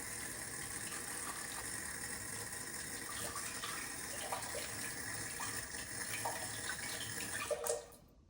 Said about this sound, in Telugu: Let's go and wash hands with salt.